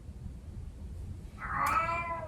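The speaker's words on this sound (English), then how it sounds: "Kitty cat's loud. There's a real animal imitating an animal here." A cat lets out a single loud, close meow partway through, rising out of quiet room noise, with no talk over it.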